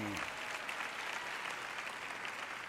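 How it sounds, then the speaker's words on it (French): Brief, faint applause from a single person in a sermon audience, a light steady patter of claps spread evenly through the moment with no talk over it. "Une personne ici a applaudi un peu."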